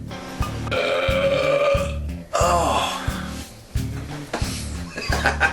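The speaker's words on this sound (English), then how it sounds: "You always burp as soon as I hit record." Long, loud, drawn-out burps erupt close up, several in a row with croaky rising and falling tones, over a rhythmic low thumping in the background.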